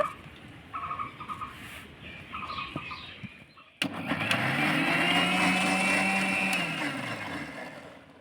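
A mixer jar whirs as it blends black grapes into juice, a steady loud motor drone that starts abruptly after a few seconds of quieter kitchen noise and runs continuously to the end.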